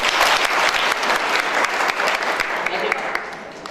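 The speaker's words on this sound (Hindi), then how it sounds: "तालियां होनी चाहिए" Audience at a business seminar breaks into loud, sustained applause, a dense wash of many hands clapping close by that tapers slightly toward the end.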